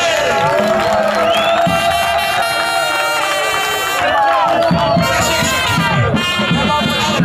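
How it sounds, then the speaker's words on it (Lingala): A crowd at a Congolese ranking event cheers and whoops loudly and steadily, with shouts and chatter running over music throughout. "Chouchou Sidé Magassay, applaudissez!"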